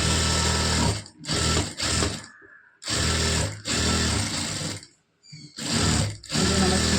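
Sewing machine stitching the lining into a blouse, running in loud close bursts of steady whirring with brief pauses between runs.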